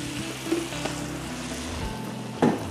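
A ground spice paste sautés in oil for Javanese-style chicken curry, producing a moderate, continuous sizzle with a few spatters and a sharper pop near the end, close up and without voices.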